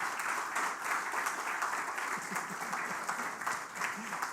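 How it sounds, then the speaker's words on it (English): A lecture audience in Bangalore applauds a guest speaker, a steady wash of many hands clapping, moderately distant and even throughout, with no speech on top. "I think a bigger Bangalore applause for Mr."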